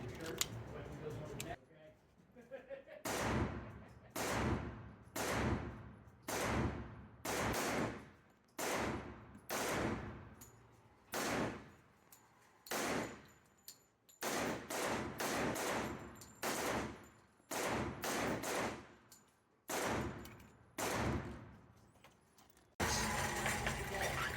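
Rock Island Armory M1911A1 pistol firing .45 rounds outdoors, a series of about fifteen sharp, loud reports. Each shot is separated by a pause of about a second, followed by its echo.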